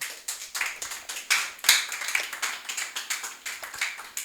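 Scattered audience clapping at a church youth gathering, a small group applauding with uneven, rhythmic claps that rise and fall in bursts, moderately close.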